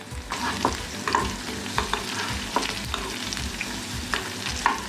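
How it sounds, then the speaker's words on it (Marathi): Stuffed bitter gourds, Maharashtrian bharli karli, sizzle steadily in oil after being flipped in a pan, with repeated clanks and scrapes of a spatula stirring and turning them close by, and no talking. "आता आपण झाकण काढून घेऊया आणि आता हे पलटून घेऊया परत।"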